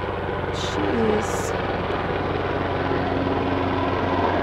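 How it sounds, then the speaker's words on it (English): A military helicopter passes overhead near a home by military bases, its steady loud rotor drone filling the whole clip, with a person speaking briefly under it. "I have a helicopter going overhead."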